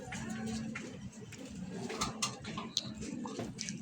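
Racing pigeons cooing softly at a loft during an off-color pigeon race in Gumaca, Quezon, low murmuring coos close by against a busy background with occasional brief knocks.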